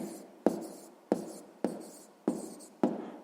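A pen or pencil writes an answer to a sixth-grade math exercise, making quiet scratchy strokes in a regular rhythm of about five sharp-onset scrapes, each fading away. No one talks.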